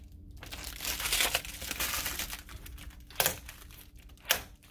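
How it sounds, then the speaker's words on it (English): A protective liner peeled off an acrylic digital print sheet: near, continuous crinkling and crackling plastic with a few sharper snaps as the film lifts away, heard on its own without talk. "So I'm going to just peel this liner off and place it into our little display."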